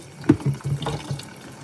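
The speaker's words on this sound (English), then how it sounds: "Definitely gotta wash my hands." Hands being washed under a running tap, a short watery splash and flow of about two seconds, close and fairly quiet, with no talking.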